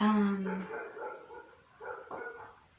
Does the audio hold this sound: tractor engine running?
no